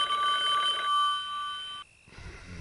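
A telephone bell rings in a steady electronic warble, loud and close, then breaks off into near silence before a faint low rumble returns; no one speaks.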